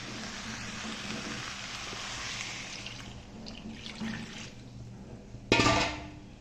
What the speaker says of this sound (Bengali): এরপর আমি এর মধ্যে জল ঢেলে দেবো।